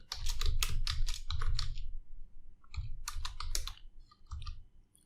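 Fast typing on a computer keyboard while writing React JS code, with close, crisp key clatter in several quick bursts separated by short pauses.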